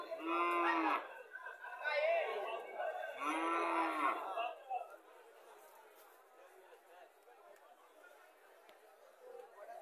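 Sahiwal bull calves moo loudly at close range, two deep drawn-out calls in quick succession, while people chatter in the background at a livestock sale.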